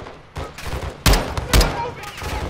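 Video game gunfire in Call of Duty Modern Warfare II: loud bursts of rapid shots and heavy impacts in a dense, chaotic firefight, with a voice talking underneath.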